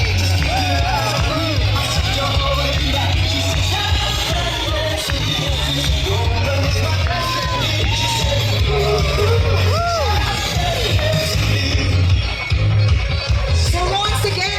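Wedding guests let out a loud, sustained cheer and yells for a newlywed couple, a dense crowd roar running steadily throughout with scattered whoops rising above it.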